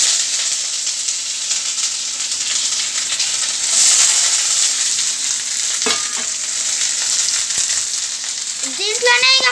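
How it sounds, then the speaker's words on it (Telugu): Chopped onion and green chillies frying in a pan give a loud, continuous sizzle and crackle, with a brief stirring clatter partway through and a short squeaky sound near the end. "ఆనియన్ పచ్చిమిర్చి వేసేస్తున్నా"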